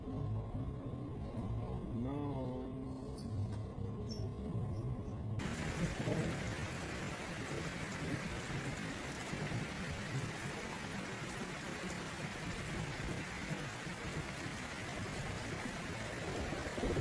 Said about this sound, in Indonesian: Cuaca ekstrim juga ditandai dengan hujan lebat disertai angin kencang dan petir